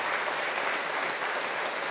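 Steady, dense applause from a concert audience inside Veavågen church at a live 2017 performance, a continuous even wash of clapping with no voices over it.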